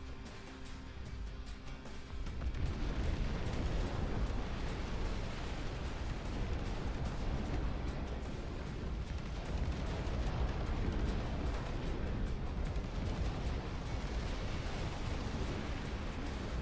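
Artillery cannons fire and shells explode in the real-time strategy game Dust Front, making a dense, continuous barrage of booms and bursts that grows louder after a quieter start, with no talk.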